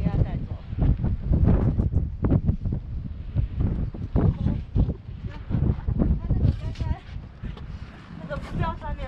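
Strong wind blows across a beach, buffeting the microphone in gusty rumbles, with people talking throughout.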